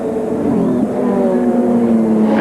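Indy cars pulling away together at the start of the 1993 Indianapolis 500, a loud, continuous engine roar with layered rising and falling tones blending into one steady drone.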